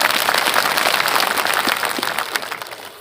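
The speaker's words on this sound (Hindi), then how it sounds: "आपको जोरदार एक बार ताली बजा स्वागत करो।" Audience applause at a BJP public rally in Bhadra, a dense burst of many hands clapping together to welcome a speaker, loud at first and thinning toward the end.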